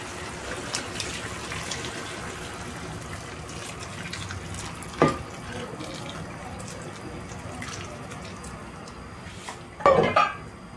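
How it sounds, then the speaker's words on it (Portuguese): Hot water runs steadily into a kitchen pot of chicken wings and pumpkin, a continuous close pour with brief clinks of the pot and utensils midway and near the end. "Agora eu vou estar colocando água quente."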